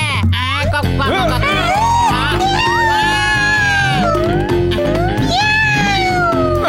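A cartoon cat in a Motu Patlu episode gives loud, drawn-out, swooping meows, likely a voiced imitation, over a busy, rhythmic musical score that fills the whole stretch.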